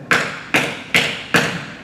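Four sharp, evenly spaced bursts, each with a hard attack and a quick fade, from a voice mimicking M4 rifle shots, loud and close with no other sound.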